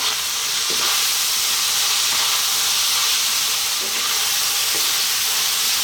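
Onions with a 50-50 garlic and ginger paste frying over fairly high heat in a pan, giving a loud, steady broadband sizzle and hiss throughout with a few faint stirring scrapes.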